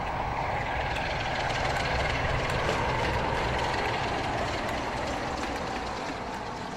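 A train hauled by two locomotives rumbles along the rails in a continuous dense roar with faint rhythmic clicking, steady and fairly loud throughout, no talk.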